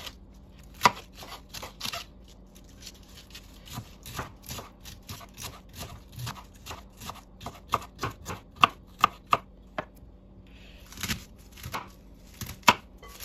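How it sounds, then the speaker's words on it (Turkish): A knife thinly chops a small piece of washed cabbage on a board, producing a close series of crisp, irregular cuts that come in quick bursts with brief pauses between. "Yıkadığım küçük bir parça lahanam var. İnce olacak şekilde doğruyorum."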